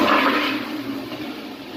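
Sewage rushes and gurgles down a cleared main drain line after a blockage is opened, a short steady watery flow heard up close.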